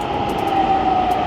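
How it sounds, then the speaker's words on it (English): A Pune Metro train pulls into the station with a loud, steady rumble and a sustained high whine, close by and continuous with no talk over it. "here comes a metro"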